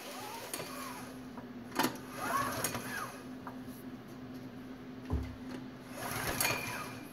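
Small engine on a trash water pump cranking without starting, with a repeated, rhythmic mechanical chatter that sputters but never catches, heard close with no speech.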